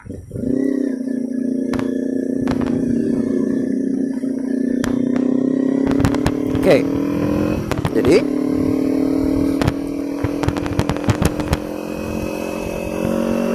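A rented 250 cc motorcycle ridden on rough Jakarta roads, its engine droning close and steady, pitch sliding up as it accelerates, with clicks and knocks over the top and someone talking briefly.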